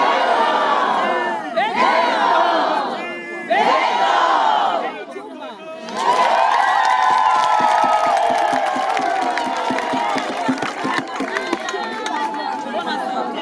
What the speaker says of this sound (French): accueilli par une foule immense de la population avec des chants de bienvenue